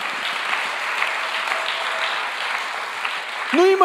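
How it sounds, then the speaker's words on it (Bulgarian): A church congregation claps steadily in a continuous, dense burst of applause, with a brief voice rising near the end over the clapping. "ако ръкопляскаш, ръкопляски,"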